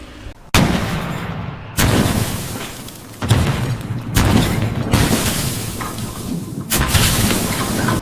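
A series of loud, booming AI-generated explosions made with Kling 3.0, each a sudden blast followed by a long rumbling roar that fills the air.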